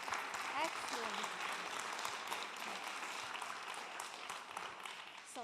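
Steady, fairly faint audience applause at a Climathon 2018 climate hackathon closing ceremony after a team presentation, continuous hand clapping with scattered voices and shouts mixed in.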